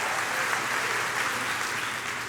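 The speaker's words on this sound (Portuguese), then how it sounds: "Dá uma salva de palmas ao Senhor." A church congregation claps in steady, dense applause that fills the room at a loud, constant level from start to finish.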